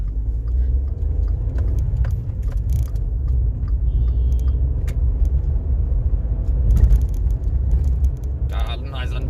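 A car in second gear on a bumpy road rounding a corner, heard from inside the cabin as a steady low rumble with faint rattles and knocks over the top and a brief louder jolt near the end.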